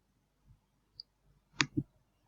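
A computer mouse gives a few faint, sparse clicks in a quiet room, including a quick double click near the end, with no talk.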